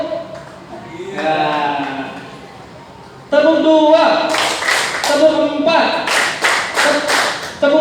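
A school class clapping in rhythm on command, a few claps at first and then a run of sharp, loud, evenly spaced claps, with a teacher's voice speaking between them.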